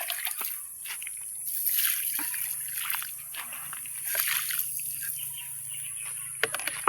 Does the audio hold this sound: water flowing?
yes